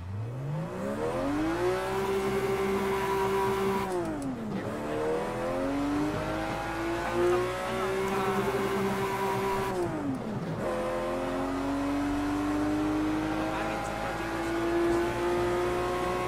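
A race car engine revs in Project Cars 2, driven with a PXN V9 wheel. The pitch climbs steadily through each gear, then drops sharply at two shifts before rising again, loud and continuous with no talking.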